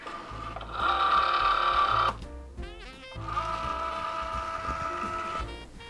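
A Cricut Joy cutting machine loads its mat with a steady motor whir that pauses, then a short burst of stepped, chirping motor sounds, followed by another sustained motorized hum, close and fairly quiet.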